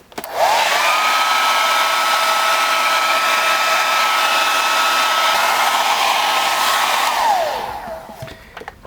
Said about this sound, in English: So we're going to take a standard hair dryer, going to heat this grip up really nice